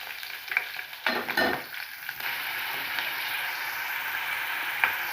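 Paneer pieces sizzling and frying to a brown colour in hot oil for matar paneer, a steady close crackling fry with a few louder stirring scrapes early on.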